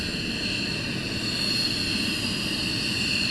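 Military aircraft fly the landing circuit at RAF Lakenheath during surge operations. A steady, loud engine roar with a high whine holds throughout, and no voices are heard.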